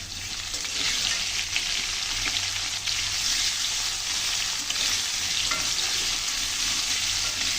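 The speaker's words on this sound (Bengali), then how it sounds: "এই আলুর দম করার জন্য আলুগুলোকে কিন্তু সুন্দর করে ভেজে নিতে হবে।" Potato chunks seasoned with a little turmeric fry in hot oil in a pan for an aloo dum, giving a loud, steady, dense sizzle that continues unbroken, with no talking.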